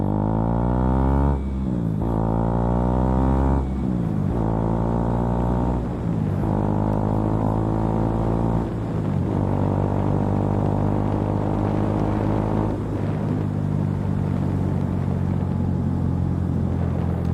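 Motorcycle engine droning steadily while riding along rural roads in Pennsylvania Amish country, loud and close, with the pitch rising and falling as the rider shifts through gears.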